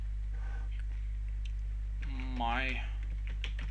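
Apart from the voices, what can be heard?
typing on a computer keyboard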